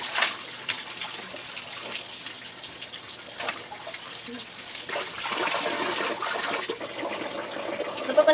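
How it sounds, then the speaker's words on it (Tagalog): Water gushes steadily into a small home swimming pool, a continuous broad splashing rush that holds close and fairly loud throughout, swelling slightly near the end. "Papanamin ko lang yung tubig."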